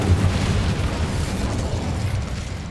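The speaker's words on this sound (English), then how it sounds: "We can blast through. Incendio!" A spell blasts through a barrier in Hogwarts Legacy, a dense, rumbling burst of noise that stays loud and steady for a couple of seconds with no voices over it.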